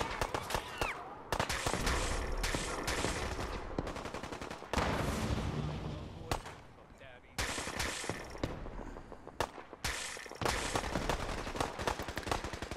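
The Gamma Gun fires in Fallout 4, with repeated loud bursts of weapon fire in rapid volleys, separated by short gaps, under a busy game soundscape with faint talk in places.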